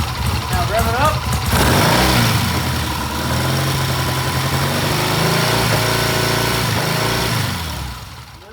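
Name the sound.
engine revving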